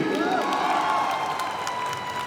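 A cinema audience at a PVR theatre stage event cheers and claps loudly for an actor from the film Marco, a steady dense roar with high shouts and whoops woven through it.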